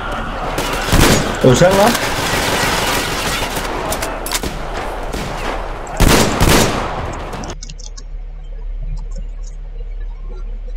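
Repeated shotgun blasts and rapid gunfire from the video game Metro Exodus, loud and dense, with a voice talking over the shooting before the noise cuts off into quieter game ambience.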